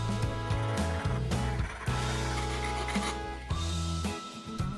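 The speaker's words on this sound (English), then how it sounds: "we do need to create some grooves in it with a round file" A round file rasps grooves into Schedule 40 PVC pipe in close, continuous back-and-forth strokes, a gritty scraping with brief pauses between passes.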